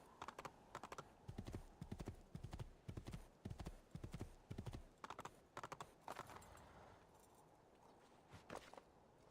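Horse hooves clip-clop at a steady walking pace while riding around a villa in Assassin's Creed II, crisp and close, in a regular rhythm that thins out near the end.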